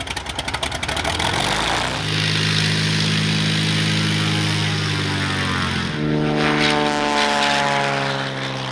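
A light propeller aircraft flying up the Rift Valley makes a loud, steady engine drone with a strong propeller hum close by. The pitch bends and shifts partway through.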